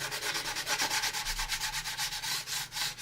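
Sanding a plastic part from an AMT U.S.S. Enterprise model kit during paint prep: quick, even back-and-forth rubbing strokes, close and steady, about seven per second with no talking.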